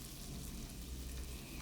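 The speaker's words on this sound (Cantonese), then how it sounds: "將兩邊煎到好似金黃色咁樣，慢慢煎佢" Pork and asparagus rolls pan-frying over medium heat, giving a steady close sizzle and crackle with no talking over it.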